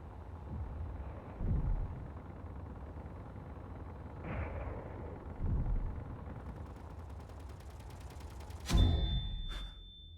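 Enemy turret in the Space Engineers game firing in a few separate heavy bursts, low booming impacts spaced a couple of seconds apart over a constant background rumble, with a sharper, louder blast near the end.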